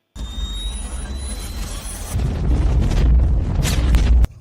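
A heavy explosion of a police boat rumbles and roars, the low boom swelling and sustaining for a few seconds before cutting off abruptly.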